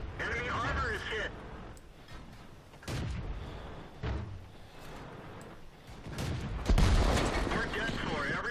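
Tank cannon and gunfire in World of Tanks, with several heavy booming shots and bursts spread across the clip, loud and close, mixed with game noise and radio-style voices.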